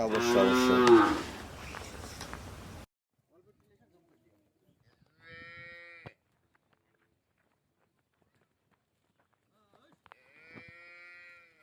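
A dairy cow on a farm gives two long, loud moos a few seconds apart in quiet surroundings, following a stretch of talk at the start.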